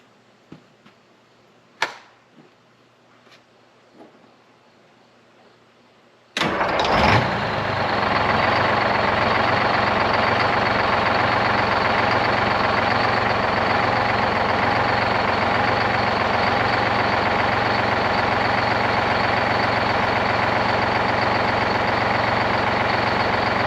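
A 12V71 Detroit Diesel in a 1973 Peterbilt 352 cabover sits quiet with a few small clanks, then cranks and catches abruptly, settling into a loud, steady, rumbling idle that drones on for over fifteen seconds.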